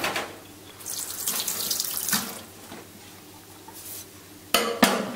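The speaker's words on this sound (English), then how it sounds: "Okay, just wash my hand." Water runs from a kitchen tap into a sink while hands are washed after filleting a sea bream, a steady close splashing stream that shifts as the hands move, ending with a few louder splashes.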